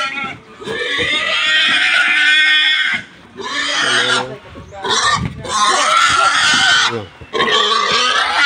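Pigs squeal and grunt loudly in repeated shrill bursts with short pauses between, close by.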